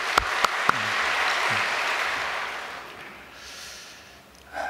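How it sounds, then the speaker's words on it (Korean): A church congregation gives a long round of applause, a broad wash of many hands clapping that swells and then slowly fades over several seconds, with a few sharp clicks at the start and a thump at the end. "우리 황진수리 교수님 가정에게도 큰 감사의 박수를 보내 올리겠습니다"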